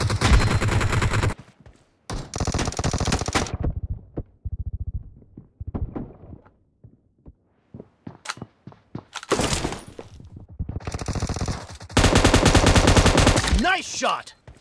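Gunfire in a mobile shooter video game, with loud bursts of automatic fire alternating with single sharp shots and short quiet gaps, ending in a long sustained volley.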